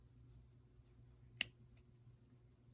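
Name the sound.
scissors snipping off a long piece of yarn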